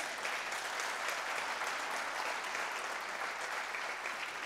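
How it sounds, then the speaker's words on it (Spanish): A Spanish-speaking church congregation applauds during a worship service, steady, fairly soft clapping from many hands heard at a distance and holding evenly throughout. "Dale un aplauso al Señor"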